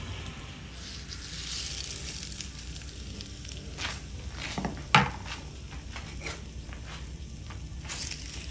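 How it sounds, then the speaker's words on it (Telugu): Hot tempering is mixed into ginger chutney, a faint, even sizzle with soft stirring scrapes and one sharp clink of a utensil against the bowl. "ఇప్పుడు ఈ తాలింపుని పచ్చడిలో వేసి కలుపుకోవాలి."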